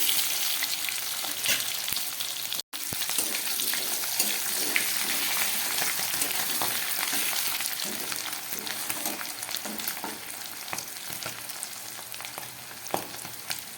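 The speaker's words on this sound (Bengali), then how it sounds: "আলুটা খুব ভালো করে ভেজে নিই।" Boiled potatoes for aloo dum fry in hot oil in a pan, a loud, continuous sizzle with crackling spatters and occasional stirring, no voices.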